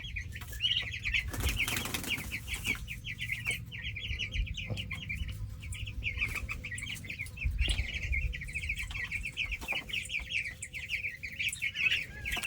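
Cornish cross chickens out on pasture, a flock giving soft continuous clucks and chirps with occasional wing flaps and rustling nearby, no talking.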